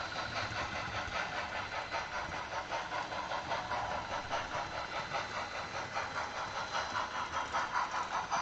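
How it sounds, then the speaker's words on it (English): Engine of a small 1985 Ford tractor in Farming Simulator 22, a loud, steady, close rumbling idle with an even, pulsing chug that continues throughout. "So this is the little 1985 Ford tractor."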